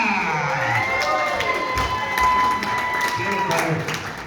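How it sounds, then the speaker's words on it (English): A party crowd cheers and applauds a stand-up comic at a private gathering, with steady clapping and whoops mixed under an amplified voice. "Give him a big round of applause, guys"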